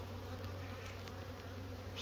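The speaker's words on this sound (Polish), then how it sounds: "Parę wkurzonych pszczół dookoła mnie lata." A steady swarm of honeybees hums all around at an apiary hive on a warm spring day, close and continuous, a dense unbroken drone with no talking.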